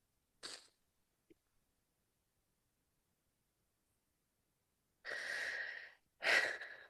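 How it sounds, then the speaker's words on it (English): A person breathes quietly in a calm, near setting: a short exhale, a faint catch, then a long sighing breath and a sharp final exhale after a stretch of silence. "I'm listening to your breathing"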